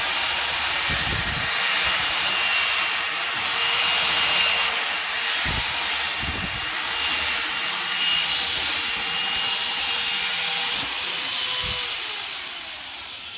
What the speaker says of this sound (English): Sam here's got the pipe blenching tool that we use for preparing the barrels